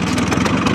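A Bajaj Chetak scooter's small two-stroke engine runs steadily and close by, a loud, even pulsing putter with no voices over it.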